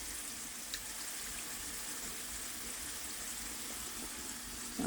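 Hopnis (Apios americana) tubers frying in oil: a steady, even sizzle holding throughout at a modest level, with a faint click and a brief knock at the very end, no voices.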